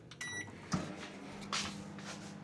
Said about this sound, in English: I always have to pop it in the microwave for 30 seconds